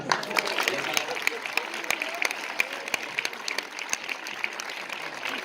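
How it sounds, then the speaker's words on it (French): Audience applause, moderately loud and fairly sparse, with distinct individual claps over a steady crowd wash and some voices mixed in. "On peut applaudir Fred."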